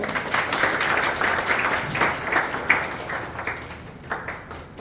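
Lecture audience clapping in a hall after a welcome with a bouquet, a brisk continuous round of applause that tapers slightly toward the end.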